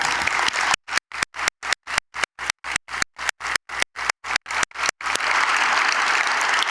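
Applause at a Martin Luther King Jr. community leaders awards ceremony as students stand, a dense steady wash of clapping repeatedly chopped into rapid silent gaps midway, then resuming unbroken.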